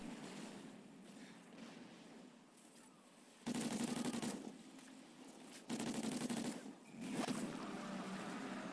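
Gunshots in a Call of Duty Ghosts match, a few separate bursts of fairly quiet automatic fire over a low steady ambience, each burst lasting a second or so.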